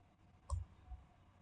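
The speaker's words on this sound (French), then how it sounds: "Je clique ici." Faint computer mouse clicks while working in AutoCAD: one crisp click followed by a softer second click, close and quiet against a low background hum.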